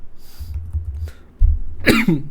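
A short, sharp cough bursts out near the end after a low throaty rumble from a hoarse-voiced man, loud and close, with no words spoken.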